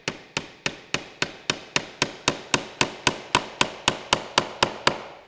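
A hammer drives nails into a wooden birdhouse in a quick, even run of about twenty sharp, close knocks with no talking in between.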